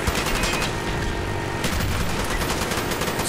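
Rapid automatic gunfire from a multiplayer match of Call of Duty: Black Ops on the Nuketown map, continuous loud rattling bursts with a short lull midway before the shooting resumes.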